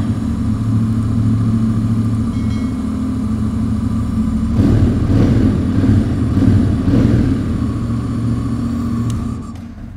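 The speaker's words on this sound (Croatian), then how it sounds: "mogu da upalim čisto kratko da vidite kako se čuje motor" A Honda NC750S motorcycle fitted with a Leo Vince exhaust and no dB killer runs after a cold start, a close, steady low engine rumble with a slight swell midway before easing off.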